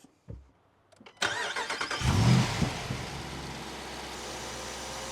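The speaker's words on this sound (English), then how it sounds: "let's finally fire up this 392 V8 and see what it sounds like" A 2024 Jeep Wrangler 392's V8 engine cranks and roars to life with a loud burst, then settles into a deep, rumbling idle close by.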